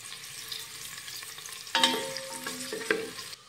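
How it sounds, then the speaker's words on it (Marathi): Onion sautéing with whole spices such as cardamom for aloo matar pulao, a quiet steady sizzle that turns into a few sharper scraping stirs and clinks against the pan midway. "आणि लगेच यामध्ये घालूयात कांदा। आणि हा कांदा हलक्या सोनेरी रंगावर छान असा परतून घेऊयात।"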